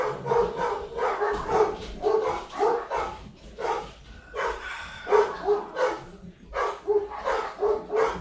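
Dogs bark repeatedly nearby in rapid bursts, a run of loud overlapping barks with short pauses between volleys.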